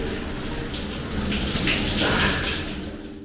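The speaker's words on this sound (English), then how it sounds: "As I finish up my shower, let's talk about cost." A hotel-style shower in an airport arrivals lounge runs steadily, a dense continuous hiss of spraying water at close range with a slight swell midway, and no voices over it.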